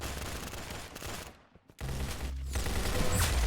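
Dense video-game gunfire rattles in sustained bursts, breaking off into a brief near-silent gap before a heavier, louder barrage resumes and continues to the end.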